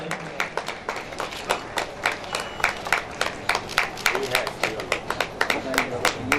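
An audience at an annual school function claps, a steady patter of many hands with sharp individual claps standing out, growing slightly denser toward the end, with faint voices underneath.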